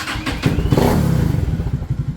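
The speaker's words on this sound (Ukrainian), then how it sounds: "Зараз запустимось і послухаємо, як він робить ра-та-та" A small Viper V250CR engine catches and starts up close by, settling into a rapid, loud putter with a rhythmic chugging beat.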